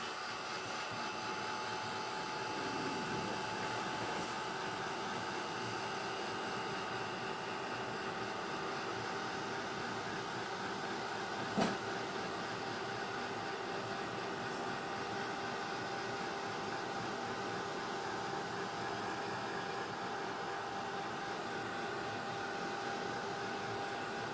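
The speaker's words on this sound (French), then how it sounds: "Et on va chauffer notre poudre à embosser." A heat tool blowing hot air to melt embossing powder on card: a continuous, even whirring hum with a faint fan whine, steady and fairly quiet throughout with one brief click midway.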